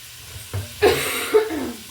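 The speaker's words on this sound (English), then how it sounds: "I'm sorry, I'm still coughing." Two short, harsh coughs close to the microphone, about half a second apart, with a faint hiss lingering between and after them.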